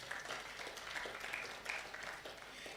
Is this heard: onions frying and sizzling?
no